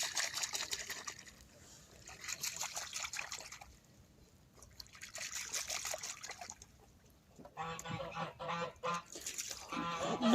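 Muscovy ducks on a French poultry breeding farm give loud, harsh honking calls in a close cluster near the end, after quieter stretches of soft rustling and faint trickling.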